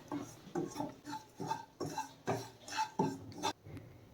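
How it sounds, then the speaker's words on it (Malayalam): Spice powders being stirred in a pan for Kerala-style varutharacha chicken curry, with a spoon scraping and tapping the metal in a steady rhythm of about ten close, moderately quiet strokes. "അപ്പം ഈ പറയുന്ന പൊടികളെല്ലാം അതിൻ്റെതായ പച്ചമണം മാറുന്നവരെ നമ്മൾ ഇളക്കിക്കൊണ്ടിരിക്കുക"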